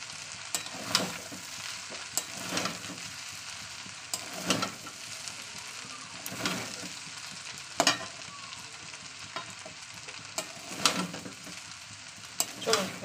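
Chow mein noodles stirred and tossed in a hot pan, soft sizzling underneath a series of repeated scraping, clattering strokes of a spatula at an irregular rhythm, close and moderately quiet.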